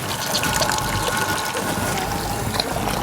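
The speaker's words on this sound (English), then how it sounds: "You have to block that and then the water comes out there." Water streams steadily from a cast-iron nasone drinking fountain on a street in Rome, a continuous close splashing gush that holds at an even level throughout with no talk over it.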